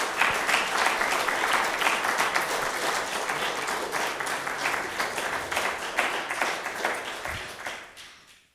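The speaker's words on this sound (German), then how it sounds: "Ich bitte um einen ganz großen Applaus für Dr. Markus Jürgens." Studio audience at a late-night TV show applauding, a dense, steady wall of clapping that holds strong for about eight seconds, then fades away near the end with no talk over it.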